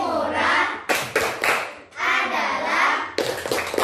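A class claps sharp, rhythmic bursts of hands, alternating with stretches of children chanting together in Indonesian, loud and close.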